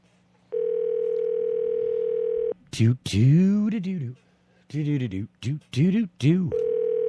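The ringback tone of an unanswered phone call repeats in long bursts with silent gaps, while a voice talks over the pauses between them.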